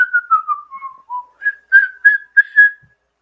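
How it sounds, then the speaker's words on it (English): A person whistles the Thomas the Tank Engine theme, a clear, close melody of about a dozen pure notes, first stepping downward and then rising into a bouncier phrase, heard alone with no talk. "I have a uh, talent of humming the Thomas themes. yeah, I just sometimes whistle, just whistle them"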